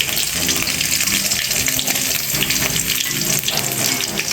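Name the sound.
crab frying in oil with curry leaves and onion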